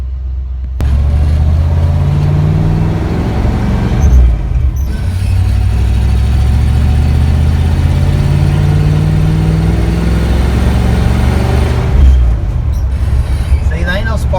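A truck with a Ford 400 engine runs while driving to the dump, a loud, deep, steady rumble with slight rises and falls in pitch throughout.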